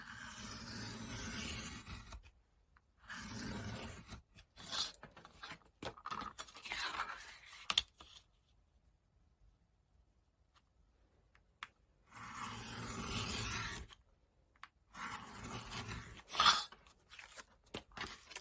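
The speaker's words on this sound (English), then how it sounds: "we're just going to carefully, with a craft knife, cut those." A craft knife slicing through cardboard to make sketchbook pages, heard as several separate bursts of close crunching and scraping with quiet pauses in between.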